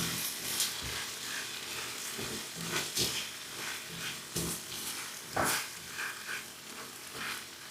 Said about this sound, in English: Now add all the sauce and just give it a quick mix.